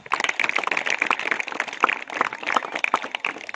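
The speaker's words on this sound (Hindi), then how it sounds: "ताली बजाओ जिन्होंने सच बोला।" An audience of schoolchildren clapping hands at a moral education talk in Nira, Pune: dense, steady applause of many hands, fairly close and loud, with no voices over it.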